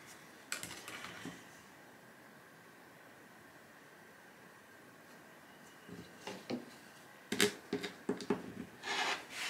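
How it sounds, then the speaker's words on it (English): Quilting fabric being trimmed, the selvage cut away with a rotary cutter on a mat, giving faint rubbing and rasping strokes in short bursts, a brief flurry early on and a busier run of scrapes toward the end, with no talk. "Let me cut this selvage off."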